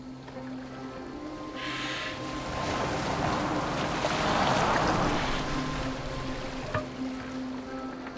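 A Viking boat sails over open water in Assassin's Creed Valhalla, with a low steady wash of waves and wind around the hull that swells gently in the middle, under a faint game music bed and no speech.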